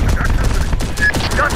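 Rapid bursts of gunfire in a Terminator: Dark Fate - Defiance strategy battle, loud and dense over the whole moment, with faint voice chatter beneath.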